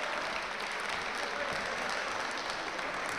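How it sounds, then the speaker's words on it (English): Spectators at a darts open final give steady, even applause for the newly crowned boys' champion, a uniform wash of clapping heard at moderate distance with no clear voices on top. "Ladies and gentlemen, big round of applause for both players."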